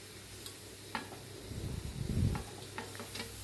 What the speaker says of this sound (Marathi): टोमॅटो कांदा सगळं छान असं मिक्स करून घ्यायचं आहे मसाल्यामध्ये।